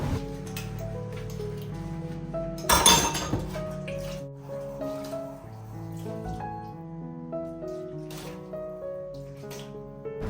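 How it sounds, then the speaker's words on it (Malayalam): Dishes clink and clatter under running water, with one louder splash and rattle; soft music plays throughout. "പാത്രമൊക്കെ ഒന്ന് കഴുകി വെക്കുകയാണ്"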